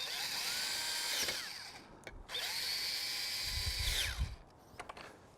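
A power drill drives screws while a Bestop Trektop NX soft top is installed on a Jeep JK Unlimited. Two close, loud whirring bursts rise and fall in pitch, with a brief click between them and no talking.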